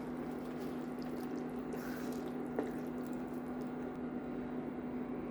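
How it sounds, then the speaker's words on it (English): Hot water pours steadily into a pan of ground meat, a soft continuous rushing stream with a low steady hum beneath and one small clink partway through. "And hot water. Add hot water."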